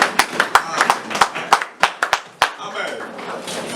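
A church congregation claps in sharp, uneven bursts for the word of God, a dozen or so loud hand claps ringing out close by before fading into a softer murmur of the room.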